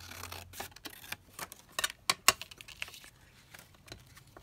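Paper pieces being trimmed for homemade window envelopes, giving a scattered run of short, crisp snips and clicks at close range, irregular and uneven, with a few sharper cuts near the middle and no talking.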